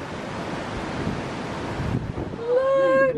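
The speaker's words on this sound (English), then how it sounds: "It's very windy." Strong wind buffets the microphone on an open cruise ship deck crossing the Irish Sea, a loud continuous roar and rumble, with a brief whistling tone rising near the end.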